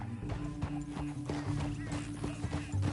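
Horse hooves gallop steadily in Red Dead Redemption 2, a rapid, continuous clip-clop drumming close by with a brief whinny-like tone over the rhythm.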